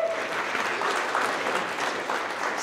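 An indoor audience at a trucking company's monthly staff celebration claps steadily in a dense, continuous burst of applause throughout, welcoming new employees, with no voices standing out.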